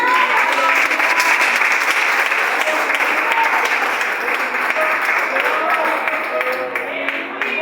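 A church congregation applauds loudly and steadily in a dense, sustained wash of clapping that fills the whole stretch, easing slightly toward the end.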